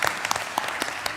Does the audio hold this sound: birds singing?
no